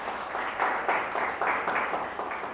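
A church congregation claps together during a worship service, a dense, steady wash of applause that swells in several uneven waves over a couple of seconds, with no voices standing out.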